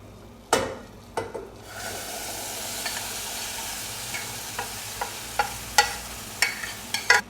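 Maple syrup poured into a second heated pan during a spring sugaring tradition in Vermont, a sharp hissing burst as it hits, then steady bubbling sizzle with repeated pan knocks and scrapes close by.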